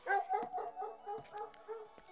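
Puppies in the AR mobile game Maguss give a run of small close barks and yips, several quick calls with a whimpering edge, fairly faint and with no talk over them.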